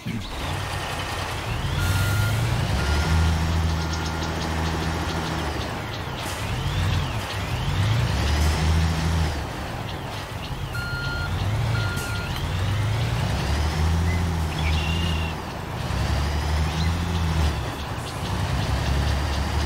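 A heavy truck in the Construction Simulator 2022 video game rumbles steadily while its reversing alarm beeps in a regular repeating pattern, loud and continuous with no talk.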